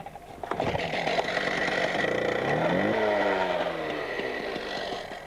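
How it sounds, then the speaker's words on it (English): A petrol cut-off saw engine runs steadily just after starting, a loud, close buzzing drone with rising and falling revs and no talk over it. "Once the engine's fired, turn off the choke."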